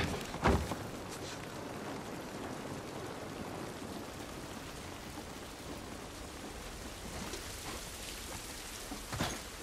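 Steady rain falls in The Last of Us Part 1, a constant hiss of drops with a couple of sharper bursts near the start and end.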